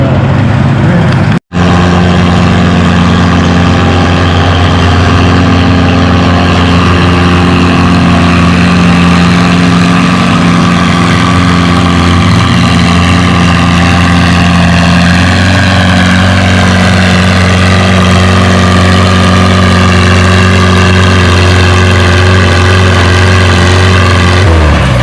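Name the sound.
pulling tractor engine at a tractor pull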